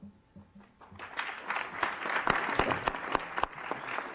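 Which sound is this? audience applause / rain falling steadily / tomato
audience applause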